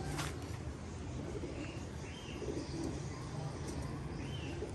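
Pigeons coo softly in a loft, low throaty calls rising now and then above a steady, rough background hum.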